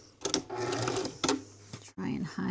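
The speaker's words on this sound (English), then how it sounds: "I'm going to quilt stitch over that." Sewing machine quilt-stitching over a small wrinkle in fabric while sewing rope bowls and trays, in short bursts of rapid mechanical needle chatter with brief pauses and a stop near the end, fairly close.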